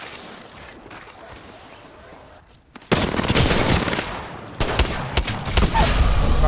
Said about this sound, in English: I need to center my EVA 8 shots right now